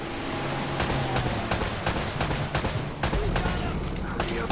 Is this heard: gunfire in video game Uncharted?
yes